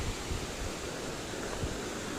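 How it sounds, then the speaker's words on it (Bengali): River water flowing beneath a bridge in Bidyang valley near Kalimpong, its current still strong after recent rain; a steady, soft broadband rush with no distinct splashes and no voices. "জলের স্রোত জলের আওয়াজ শোনা যাচ্ছে সুন্দর"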